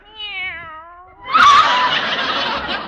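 A kitten gives one drawn-out, wavering meow, followed at once by a loud burst of audience laughter in an old radio comedy.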